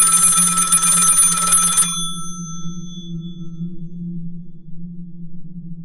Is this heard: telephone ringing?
yes